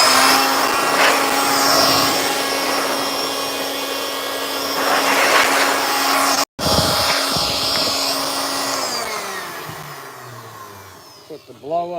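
A leaf blower roars steadily and loudly on a scaffold ladder building site, with a brief cutout midway before the whine resumes and slowly winds down toward the end.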